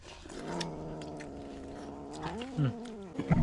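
Cats fighting, with drawn-out low yowls and growls rising into sharper wails toward the end, close by and moderately quiet against a faint background.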